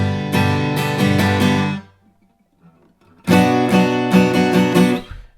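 Acoustic guitar strumming chords in a steady rhythm, then breaking off into near-silence for over a second before the strumming starts again, loud and close, no voices.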